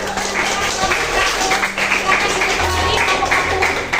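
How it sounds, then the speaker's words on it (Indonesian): Classroom audience applauding after a student group finishes its presentation: dense, steady clapping that fills the whole moment at fairly close range with no clear pauses. "Ya, beri tepuk tangan."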